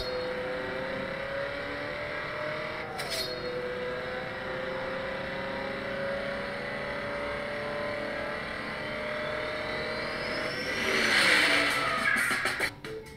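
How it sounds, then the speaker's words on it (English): A car engine revs in a drag racing mobile game: a fairly quiet, steady motor tone whose pitch climbs with each rev, ending in a louder, harsher burst of revving. "This one focuses more on drag racing, so you have to rev your engine to get the perfect start"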